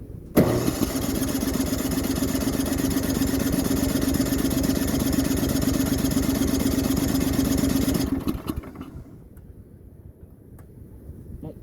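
Car engine on a cold start, cranking briefly before catching and running at a loud, steady fast idle for several seconds, then cutting back to a quieter rumble; close up and alone, no talk.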